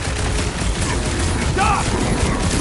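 Dense gunfire in a Guardians of the Galaxy battle rattles along in a continuous barrage, loud and close, mixed with voices and combat noise.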